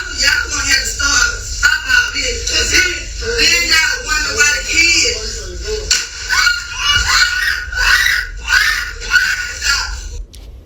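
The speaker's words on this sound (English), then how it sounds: "they screaming in the background, the mama screaming" A mother and others scream during a confrontation involving a gun in a played recording, with loud, agitated shrieks and overlapping distressed voices rising and falling throughout, mixed with shouting.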